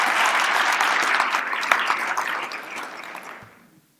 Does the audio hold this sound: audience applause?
yes